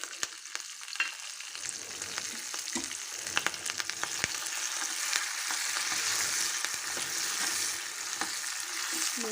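Green chillies and curry leaves hit hot oil and crackle into a sizzle that starts sparse and builds to a steady spitting hiss, broken by a few sharp pops and stirring knocks.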